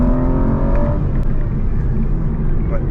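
An Aston Martin V12 Vantage's V12 engine under way, a loud, steady, deep rumble with a slight rise in pitch early on, close and continuous throughout.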